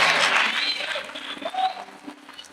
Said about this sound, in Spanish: Alguien que me está escuchando hoy, que le aplauda a Dios.